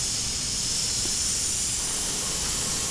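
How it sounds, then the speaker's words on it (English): An airbrush, partly clogged with dried paint, sprays thin paint onto a resin pour, producing a steady, close, airy hiss without a break. "Man, I should have cleaned this airbrush."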